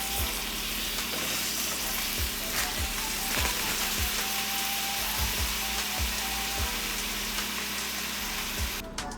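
Philly cheesesteak meat frying in a pan gives a steady close sizzle with occasional clatters of stirring and scraping, and a low hum runs beneath it throughout.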